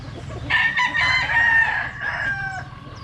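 A rooster crows loudly and close by, one long drawn-out cock-a-doodle-doo over a low background hum.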